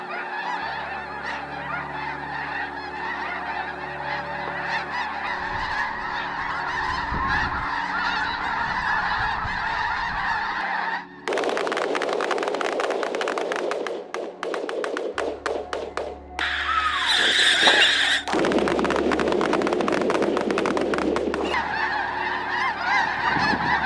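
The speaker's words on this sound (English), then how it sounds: "Millions of wild geese begin to migrate to the southern United States to avoid the cold." Wild geese migrating to Florida honk in loud, repeated calls, a dense flock close by with bursts of overlapping honks and occasional thumps.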